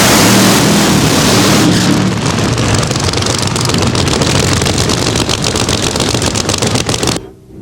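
Loud, roaring drag-racing engine noise from a 4,000 horsepower nitro funny car at a night event, a broad, sustained blast with crackling texture that cuts off abruptly near the end.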